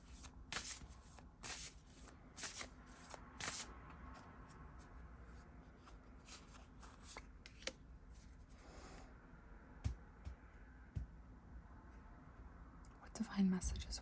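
Animal oracle cards shuffled and pulled in a pick-a-card reading, with repeated soft riffling and papery slaps near the start and scattered rubs and taps later, close and quiet under occasional whispered speech.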